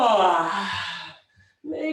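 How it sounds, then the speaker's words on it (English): A loud, drawn-out human yawn with an open mouth during a therapeutic breathing class, a long breathy exhale that tapers off, followed by a brief pause and another short voiced breath. "Make that yawn loud and proud."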